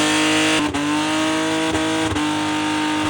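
The engine of a BMW E30 drift car runs loud and close with a sustained, buzzy drone, broken by a few short dips as the revs are blipped.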